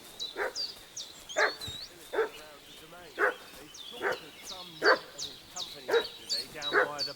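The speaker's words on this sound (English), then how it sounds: "What's that dog making such a fuss about?" A dog barking in the video game Kingdom Come: Deliverance II, about eight sharp barks spaced roughly a second apart at moderate distance, with ambient village sound and a few faint background voices between them.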